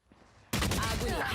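Vandal rifle fire in a VALORANT tournament match starts abruptly as a loud, dense burst of rapid shots, with a caster's voice talking underneath.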